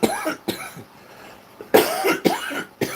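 Several harsh coughs burst out close by, a couple of quick ones early, then a louder cluster of three near the end, with quiet pauses between.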